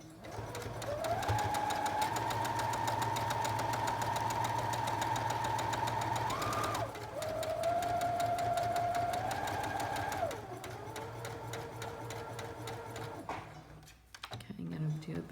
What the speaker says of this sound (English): I'm going to do a back stitch because sometimes when you're putting the arms on here, it can break the threads